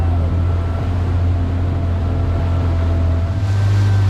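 A 2022 Kawasaki Ultra 310 LX-S supercharged jet ski idles slowly through a no-wake zone off Jupiter Island, Florida, its engine giving a loud steady low drone with water wash and light wind throughout.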